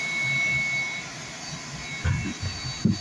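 A heat pump compressor hums steadily during a pumpdown, a close, constant mechanical drone with a thin high whine and a couple of brief clunks near the end.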